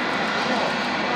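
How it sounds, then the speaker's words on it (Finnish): A Smartwings airliner coming in to land, heard as a steady, loud broadband jet engine roar with no breaks throughout. "Kato se nyt laskeutu"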